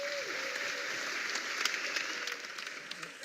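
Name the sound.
audience applause for Housing.com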